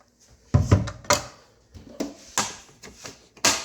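A series of light plastic clunks and clicks, irregular and close, as the water tank is pulled out of a switched-off Melitta coffee machine.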